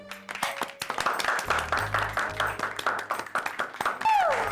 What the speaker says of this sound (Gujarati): મીરાબેન માટે જોરદાર તાળીઓ થઈ જાય